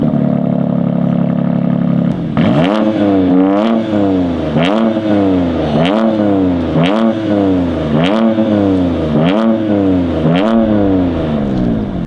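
A BMW M2 with a modified exhaust idles and then revs repeatedly, loud and close, each rise and drop in engine pitch following a steady rhythm of about one rev per second.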